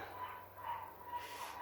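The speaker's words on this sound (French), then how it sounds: "c'est le petit chien de la voisine." A neighbour's small dog barking in the distance, a few faint high yips muffled behind a room's background hum.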